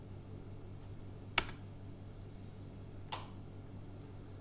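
Two sharp, close keystrokes on a computer keyboard, a crisp click and then a softer one about two seconds later, in a quiet room with a low steady hum.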